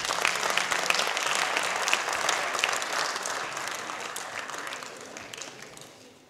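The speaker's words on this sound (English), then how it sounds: "Please give him a huge round of applause" A crowd at a school farewell award ceremony at Doon International School Riverside Campus applauds a student's award. Full, dense clapping starts strong and slowly tapers off toward the end.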